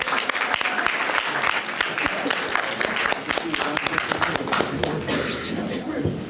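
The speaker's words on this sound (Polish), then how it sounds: "gorące dla niej brawa" Warm applause from a festival audience for the first-place winner of a patriotic song contest, dense continuous clapping with many sharp individual claps, fading slightly toward the end.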